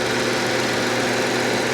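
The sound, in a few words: Infiniti G37xS 3.5 liter engine idling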